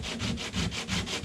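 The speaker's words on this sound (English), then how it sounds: "using old coarse paper just to sand the sticky stuff off the top of your filler" Old coarse sandpaper scrubbing sticky body filler on a 1948 Ford, a fast rhythmic back-and-forth rasp of about seven strokes, close and alone.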